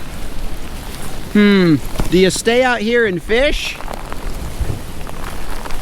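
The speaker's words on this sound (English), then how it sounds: "Oh my. It's getting stormy. Stormy weather." Steady rain patters and hisses throughout in stormy weather out on the water while fishing, with a person speaking over it in the middle.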